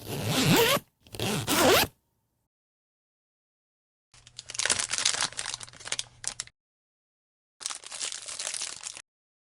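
Several zipper pulls on the cover of a Sleep Company Ortho Pro mattress during unboxing, with two quick loud zips followed by two longer, rougher runs separated by silence.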